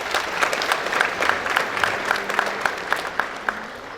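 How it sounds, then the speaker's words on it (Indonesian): An audience at a high school expo opening ceremony in Kuningan gives sustained applause, with a dense crowd of claps and a few sharper individual claps standing out in a loose rhythm. "Tepuk tangan nih untuk Semantika."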